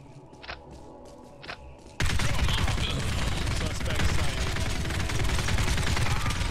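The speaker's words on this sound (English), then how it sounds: "Shots fired." Video game gunfire erupts as a dense, loud, sustained barrage of rapid shots after a couple of soft footstep-like taps in relative quiet.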